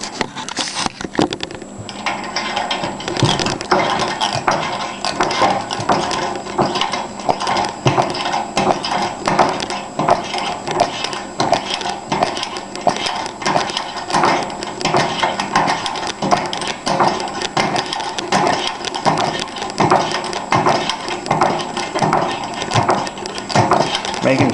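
Hand pump on a Coleman 425F dual fuel camping stove being worked: a steady, rhythmic run of repeated mechanical pumping strokes with a clattering, squeaky texture, close and loud throughout.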